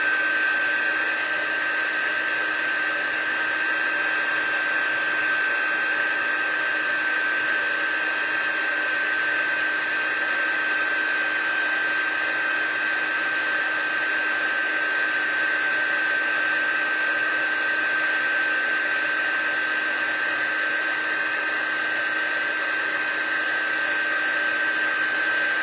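A heat tool blows hot air over embossing powder on a slimline card, giving a steady, loud whirring hiss that runs unbroken throughout with no voices.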